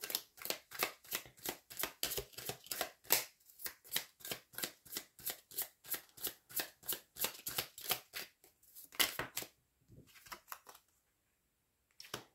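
Tarot cards being shuffled and drawn, producing a long run of rapid, close, crisp card riffles in quick rhythmic bursts, then a short pause and a few final snaps as cards are laid down, with no talking.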